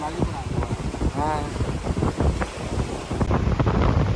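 Gusty storm wind rushes across the microphone by the sea on the Sri Lankan coast while someone talks loudly over the continuous blustery roar.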